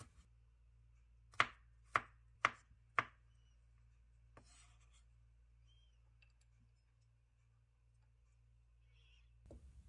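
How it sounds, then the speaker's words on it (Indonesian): Knife slicing fresh garlic: four crisp, evenly spaced chops close by on a quiet board, then a few faint taps and near silence over a low steady hum. "Iris bawang putih"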